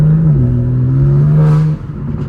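A BMW M4 Competition with new downpipes and stock intakes drones loudly at steady engine speed with turbo whir on top, then the revs drop and the note eases off.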